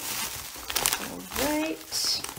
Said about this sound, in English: let me cut open into this bubble wrap